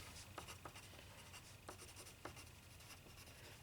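A pencil scratches on paper in a workshop drawing lesson, writing in short, irregular strokes with tiny clicks, faint and close, over a steady background hiss.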